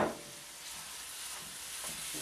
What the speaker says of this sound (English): we're going to take our ground beef and we're going to throw that in there and get that cooking away.